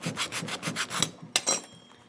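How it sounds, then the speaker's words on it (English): Scraper roughening the rubber of a bicycle inner tube around cuts during a flat-tire repair, heard as a series of close, rhythmic rasping strokes, about eight in quick succession, with a couple of sharper scrapes near the end. "I'll scrape the area around the cuts"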